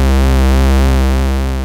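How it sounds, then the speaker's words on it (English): A plain, steady synthesizer square wave holds one low pitch, hollow and buzzy, loud and unchanging, with no voices. "Now the normal square wave sounds like this."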